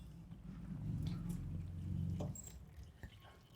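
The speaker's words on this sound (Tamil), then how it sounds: "அகைன் இப்போ தேவையான தண்ணியை நம்ம ரீஃபில் பண்ணிக்கணும்." Tap water runs steadily into a bucket from a small water tank during bike cleaning, a low rushing pour that stops abruptly, with faint clinks afterward.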